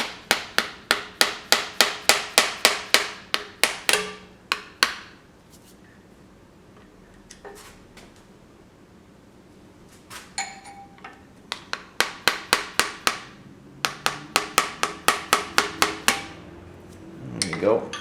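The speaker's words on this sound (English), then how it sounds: "I've been working this back and forth really carefully with that rubber mallet" A rubber mallet raps a stuck engine cylinder in quick, rhythmic runs of sharp taps, pausing for several seconds in the middle before the close, fairly loud knocking resumes.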